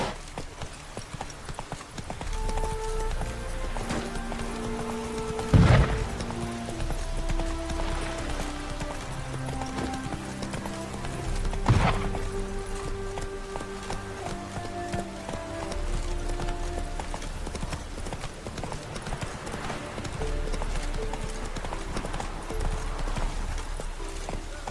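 Roach, the horse in The Witcher 3, galloping with a rhythmic clip-clop of hooves and a couple of louder thumps, under a tonal game music bed, steady and near throughout.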